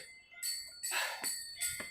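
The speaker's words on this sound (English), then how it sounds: "You can see the bell ringing sound." Bright metallic temple bell strikes ring out several times in an irregular rhythm, shimmering and ringing on, moderately loud with a hint of open-air space, atop Gilbert Hill in Mumbai.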